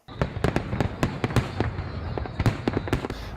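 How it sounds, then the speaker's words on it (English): A 4th of July fireworks show in Boulder, with a rapid, irregular series of loud bangs and crackling bursts, several close together, continuing throughout. "what's the 4th of July without a fireworks show?"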